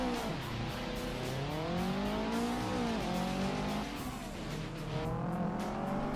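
A Subaru 22B STI laps Deep Forest Raceway in Assetto Corsa, its engine pitch rising and falling steadily through gear changes and corners, loud and continuous with no voices.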